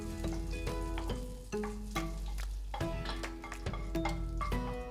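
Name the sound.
curry leaves roasting in ghee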